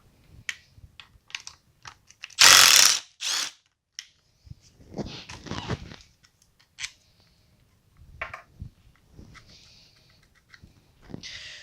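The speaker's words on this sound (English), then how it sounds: "So I'm going to go ahead, remove this bolt." A hand tool works a bolt loose from the bottom end of a Banshee engine during a teardown: scattered metallic clicks and ticks, with one loud harsh burst and a few rougher stretches, and no speech.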